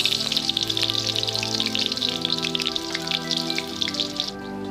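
Three medium chopped onions sizzling steadily in hot oil while aloo kochori filling is cooked, a dense continuous crackle and hiss close by with no talk.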